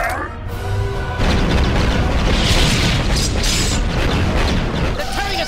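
Starship cannons fire amid loud explosions in a Clone Wars space battle, a dense, sustained roar of booms and blasts filling the scene after a shouted command.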